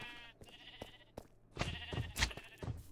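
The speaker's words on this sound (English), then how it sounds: "For instance, the sheep farm." Sheep on a sheep farm in Minecraft bleat several times, a few wavering calls at moderate distance against quiet game sounds, without talk.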